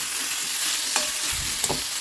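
Pieces of elephant foot yam frying in a pan give a steady close sizzle, with a couple of light scraping taps from stirring; no voices.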